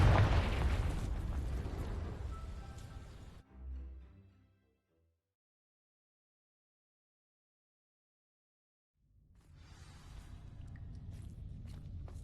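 A Confringo fire spell blast in the video game Hogwarts Legacy, a loud fiery burst and rumble that drops to a brief thud and then silence before ambient sound returns.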